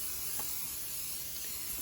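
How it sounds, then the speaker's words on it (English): Pam cooking spray hisses steadily from an aerosol can onto two pans outdoors over a fire, a continuous close spray with no talking. "I'm just gonna spray them both off with some Pam."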